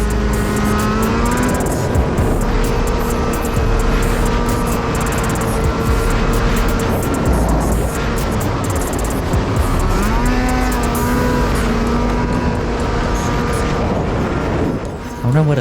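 A Ski-Doo snowmobile engine drones loudly and steadily along a trail, its pitch rising and falling as the throttle changes, while a rider talks over the noise almost the whole time.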